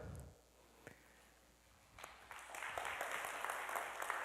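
Audience applause at a youth event, starting with a few scattered claps and building after a pause into a fuller, moderately distant round of clapping from many hands.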